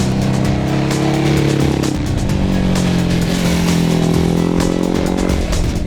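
Ducati Hyperstrada motorcycle engine pulling steadily on a mountain road, a loud continuous exhaust drone that shifts pitch once early, then holds a smooth, rising note.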